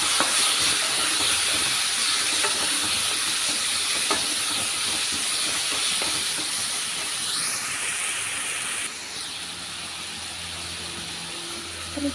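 Small-chopped tomatoes sizzle in a hot pan while cooking a Telugu brinjal and chana dal curry, a loud, steady close hiss that drops slightly in level near the end.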